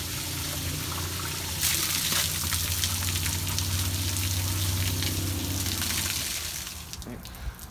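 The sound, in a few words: water draining from Holcombe mixer truck water tank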